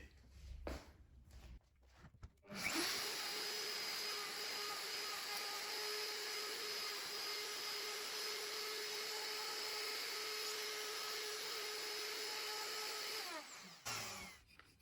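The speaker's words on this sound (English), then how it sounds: "using the router along here to cut this surface here" A router guided along a jig cuts the angled scarf joint surface of a guitar headstock, a loud sustained high whine after a few handling knocks, running for about ten seconds before spinning down.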